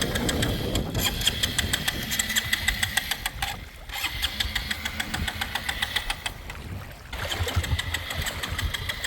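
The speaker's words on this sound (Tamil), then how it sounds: "இது வேற உங்கள் பைக் வந்த இடத்துல ஸ்டார்ட் அடிக்குது இல்லை." A motorcycle engine restarts after stalling in floodwater on a submerged road in Jaffna. It sputters and knocks with a rough, uneven rhythm and a brief drop partway through, then runs on close by with no talk over it.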